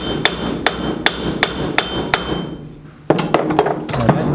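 A hammer strikes a socket to drift a part out of a Mitsubishi L200 trayback, giving about six evenly spaced sharp metallic blows, then a quicker cluster of hits after a brief lull, loud and close.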